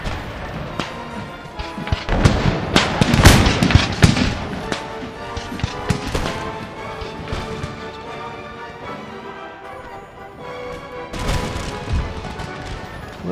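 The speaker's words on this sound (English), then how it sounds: "engaging at long range with those rifles" Rifle volleys crack across an Empire: Total War battlefield as ranger infantry trade long-range fire, a dense run of loud sharp bursts and thuds in the first half, easing off, then flaring again near the end.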